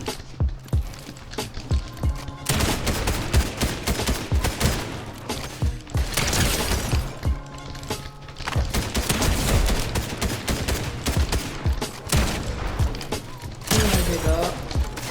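Rapid gunfire in a video game shooter map, dense bursts of close shots and automatic fire rattling almost continuously, loud and layered with game effects.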